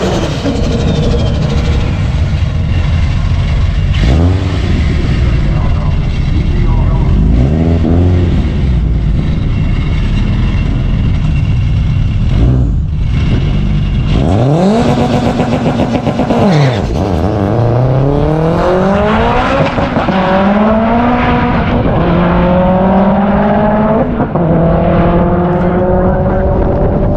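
A BCP X500R Turbo side-by-side accelerates hard down a drag strip, its engine screaming loud through rising rev sweeps and gear changes, then pulling away and fading into the distance.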